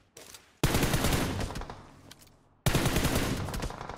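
Video game gunfire from a large apartment fight, loud bursts of automatic fire and gunshots that start abruptly, fade out, then crash back in after a brief drop.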